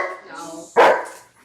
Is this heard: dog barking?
yes